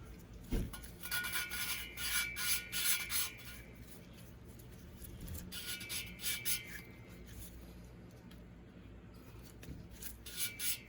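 Quiet, rhythmic rubbing and rasping as a VW Beetle cylinder head valve is hand lapped with grinding compound, the valve spun back and forth on a wooden dowel tool, in repeated short scraping strokes with no talk.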